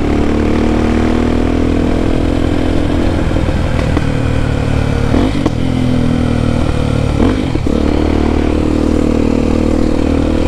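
Honda XR Tornado motorcycle fitted with a Belparts Classic exhaust runs steadily and loudly up close, its engine note rumbling throughout with a few sharp popping bursts from the pipe.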